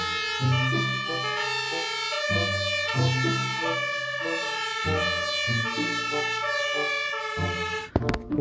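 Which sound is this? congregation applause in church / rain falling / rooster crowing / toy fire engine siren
toy fire engine siren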